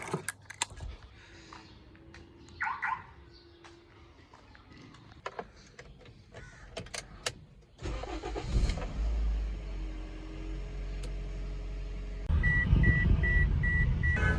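A car in Islamabad is started and driven to a parking spot: soft clicks and jangling keys, a beep, then the engine turns over and settles into a steady, close rumble that grows louder toward the end.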